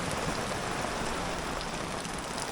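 Steady rain pouring off a tent and angled awning at a forest campsite, water trickling and bucketing down in a dense, continuous close wash with no talk.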